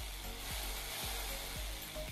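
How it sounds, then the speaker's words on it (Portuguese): An electric jigsaw of about 600 watts, powered from an inverter in a Kombi van, runs with a steady buzzing whine and a rapid reciprocating pulse, fairly faint and with no talking. "Então, tá ligado ali no inversor, ó, tico-tico, ó."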